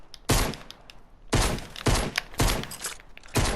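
Heavy shotgun firing in Fortnite, five loud booming shots spaced roughly half a second to a second apart, each with a short decaying tail.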